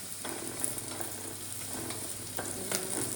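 Curry leaves dropped into hot oil for an injipuli ginger dish sizzle softly and steadily, with occasional stirring scrapes and light clicks in the pan.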